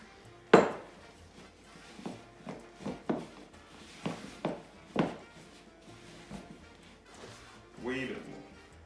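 Cheese scone dough is folded in a bowl with a scattered series of knocks and scrapes from utensil against bowl, close and fairly loud, with a person talking between strokes.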